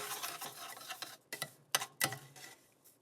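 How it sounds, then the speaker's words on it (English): Couscous coated in butter with a dash of salt being stirred in a pot: a run of close scraping, rustling strokes with a few sharper clicks, fairly quiet, with no voices. "I want to make sure that I stir it so that the butter itself is going to coat the couscous"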